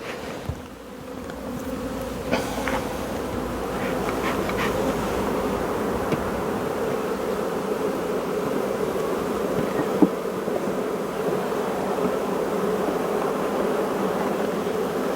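A honeybee swarm hums steadily around hive frames during natural swarm capture, a dense continuous drone close by that swells slightly and holds at a constant level, with no talk over it.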